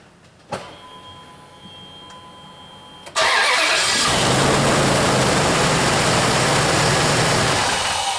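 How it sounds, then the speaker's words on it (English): Dodge Ram pickup with a noisy power steering pump being flushed: a short starter crank, then the engine catches and settles into a loud, steady idle close by, no voices. "Alright, Tammy, start it up briefly"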